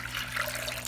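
Water is drawn out of a reef aquarium tank, a brief, soft, steady splashing trickle heard up close with no voices.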